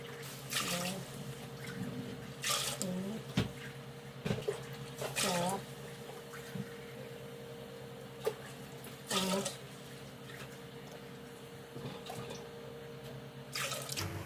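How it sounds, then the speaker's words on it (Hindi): Water, five and a half glasses, pours and splashes into a cooking pot in repeated bursts over a low steady hum, with faint voices now and then. "साढ़े 5 गिलास मैंने पानी के इसमें डाले हैं"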